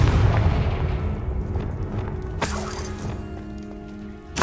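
A Confringo fire spell from Hogwarts Legacy goes off as a booming blast with a shattering crack partway through. A low rumble runs underneath and fades, and a second burst swells at the very end. No one speaks.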